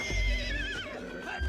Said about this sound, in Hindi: ठाकुर उस आवाज से खींचे चले आए और देखा तो घोड़ी अपने बच्चे के लिए तिलमिला रही थी।